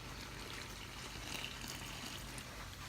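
Water pours steadily into a pot while pupusa dough is being made, a continuous close trickling and splashing wash with no talking.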